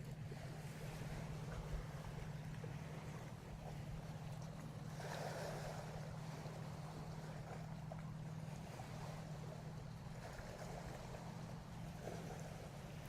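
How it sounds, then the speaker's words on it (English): A barge travels down Okanagan Lake near Peachland during a wildfire, its steady low engine drone running continuously beneath wind and water wash, with no one talking. "You can see that there's a barge now in the shot making their way"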